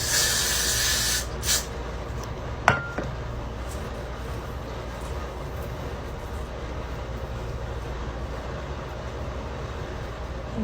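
A burst of hair spray hisses from the can at the start, a second short spritz follows, and then only a quiet room tone remains.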